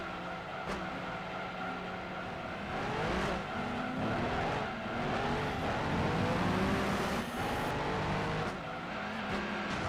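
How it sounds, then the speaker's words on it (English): A race car engine revving and downshifting in Gran Turismo 2, with rising and falling whines, rapid rev blips and some tire squeal during cornering, continuous and fairly loud throughout. "The downshift sound nice though"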